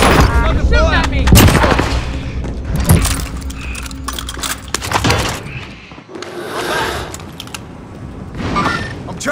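Bursts of gunfire in Call of Duty: Modern Warfare, loud and close, with sharp cracks scattered through the match and a brief voice now and then among the shots.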